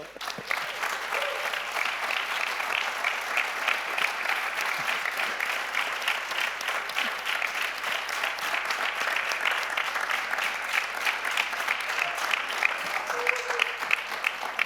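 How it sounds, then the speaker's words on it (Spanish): Sustained audience applause after an arts talk and dialogue, dense even clapping from many people holding steady for about fifteen seconds, moderately loud with a slight crowd murmur. "Fantástico, un aplauso"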